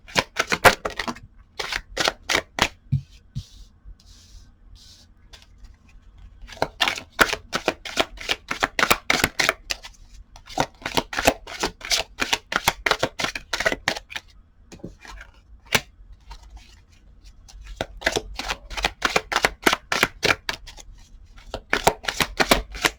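Tarot cards are shuffled by hand during a reading, with repeated bursts of crisp riffling and flicking close up, separated by short quiet gaps and no talking.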